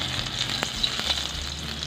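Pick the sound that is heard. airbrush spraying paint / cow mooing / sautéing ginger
sautéing ginger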